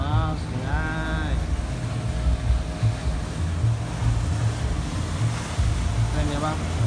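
A police boat moving along a river in Palembang gives a steady, broad rush of engine and water noise with wind buffeting the microphone, while nearby voices talk over it.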